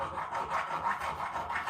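A hand file rasping on metal around a set screw hole of a two-speed part, a steady, continuous scraping with rhythmic strokes, close and alone.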